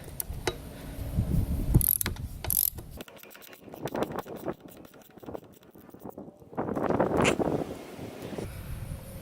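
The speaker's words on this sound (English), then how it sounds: "We're going to remove the 14mm bolt holding the front caliper" A ratchet wrench clicks as it loosens a 14mm front brake caliper bolt on a Yamaha FJ-09 motorcycle, with bursts of rapid close ratcheting separated by short pauses and some metallic handling noise.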